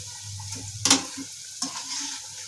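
Sabudana tikkis frying in hot oil, a steady soft sizzle with a few sharper crackles and spatters, no talking.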